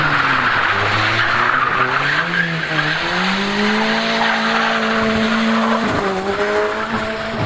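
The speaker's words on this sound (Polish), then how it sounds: "O, olej się wypala. Już nie ma siły jechać." A worn-out car with burning oil strains at full throttle while its tyres skid and squeal, a loud, close, sustained engine wail whose pitch wavers and climbs as the wheels spin.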